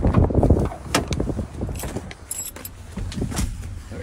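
Car keys jangle close by as a woman loads her things into a car on a windy day, the metallic rattles mixed with rustling, knocks and low wind rumble throughout.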